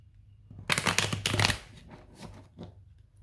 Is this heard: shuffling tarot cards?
yes